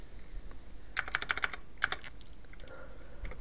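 Quick bursts of clicky keystrokes on a computer keyboard, a fast cluster of taps followed by a few more scattered presses, close and fairly clear over a quiet background.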